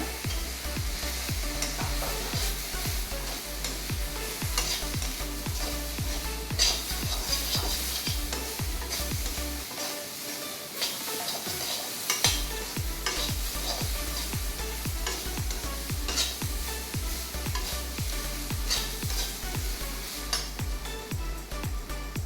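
Handful of tomatoes sautéing in a pot for one-pot chicken biryani, a steady loud sizzle and crackle with repeated stirring scrapes throughout, no voices.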